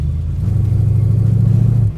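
A heavy Ford car engine revs hard and steadily in a low gear trying to break the tires loose for a burnout, a loud sustained rumble lasting nearly two seconds before cutting off abruptly.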